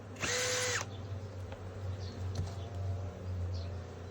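A power drill drives a self-tapping screw in one brief, loud whirring burst of about half a second. It is followed by quieter background hum and faint bird chirps.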